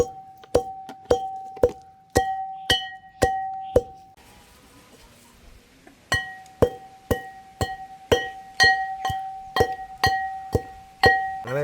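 Dried red chillies and salt pounded in a mortar for a village-style sambal, heard as a steady series of sharp knocking strikes with ringing overtones, a short pause in the middle, then the rhythmic pounding resumes, close and alone.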